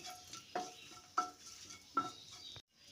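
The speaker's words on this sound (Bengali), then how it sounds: "এবার ফোড়নটাকে কয়েক সেকেন্ড ভেজে নিচ্ছি" A dry chilli and bay leaf tempering fries quietly in oil for a fish curry, faint sizzling punctuated by three light spoon taps against the pan before it falls silent.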